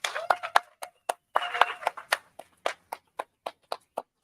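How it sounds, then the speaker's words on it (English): Applause at a large Tesla owners' event in North America comes across as sparse, separate claps, fairly evenly spaced and moderately faint, with a short stretch of voices partway through. "please, big hand of applause"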